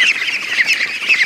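Ducklings and goslings squawking together during a busy morning rush, a continuous shrill chorus of overlapping peeps and calls, close and fairly loud with no talk.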